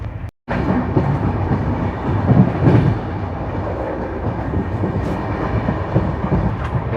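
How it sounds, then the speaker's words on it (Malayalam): Inside the Karnataka Sampark Kranti Express while it travels: a continuous rolling rumble with rhythmic clickety-clack of wheels over rail joints, close and steady, with no talk. "ഞാനിപ്പോൾ കർണാടക സമ്പർക്ക് ക്രാന്തി ട്രെയിനിനകത്താണുള്ളത്"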